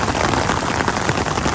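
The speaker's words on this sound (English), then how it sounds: "Yeah, it's definitely raining." Steady rain falling at Universal Studios theme park, a dense even hiss of drops on surfaces, loud and close throughout with no voices.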